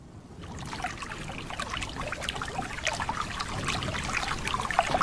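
Animated flood water flows and trickles in a continuous gurgling, splashing rush that grows slightly fuller over a few seconds, with no voices.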